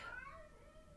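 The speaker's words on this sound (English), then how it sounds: "That was my cat." A house cat gives a single short meow, fairly faint and slightly distant, gliding downward in pitch and fading into a quiet room.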